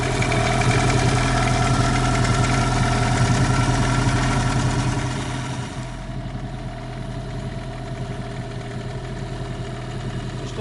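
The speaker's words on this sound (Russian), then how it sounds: "Ну, 10 минут тарахтит на холостых." A Gladiator 9.9 outboard boat motor idles steadily at close range, a continuous loud mechanical rattle that drops slightly in level partway through, with no voices.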